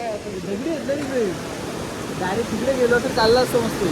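Water rushes through a deep village canal in a continuous broad roar, with people talking and calling out over the flow.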